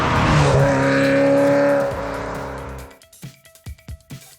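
Ferrari 348 with its 3.4-litre 300 hp V8 driving on a race track, a loud sustained engine roar with rising pitch that fades as it passes, followed by a few sharp knocks and pops.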